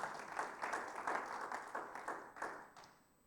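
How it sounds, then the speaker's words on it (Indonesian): Congregation clapping during a Sunday church worship service, a steady run of hand claps at moderate loudness in a reverberant hall that thins out toward the end. "Tepuk tangan panjang bagi Tuhan Yesus."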